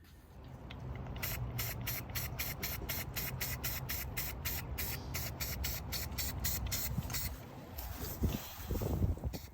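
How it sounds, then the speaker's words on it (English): A spray paint can hisses in a quick run of short bursts while coating car headlight parts, then settles into a steadier spray, close by with no voices. "This was a spray paint that I used."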